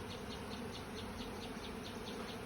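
Honey bees buzzing as they enter a hive box while being moved into it, a continuous dense close drone of many insects with no talking.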